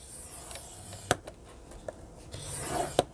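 A tool scores lines into cardstock for a chocolate favor box, giving quiet scraping strokes broken by a few small clicks and taps, close and faint.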